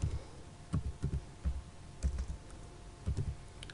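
Typing on a computer keyboard while entering an AutoCAD line command: a few soft, close keystrokes in small clusters with pauses between, fairly faint over a low room hum.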